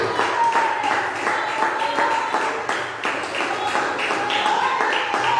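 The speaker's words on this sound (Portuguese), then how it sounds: "Bate palmas para o Senhor." A church congregation claps in rhythm during a lively Brazilian evangelical service, with a sung or sustained voice line running over the beat and scattered voices mixed in.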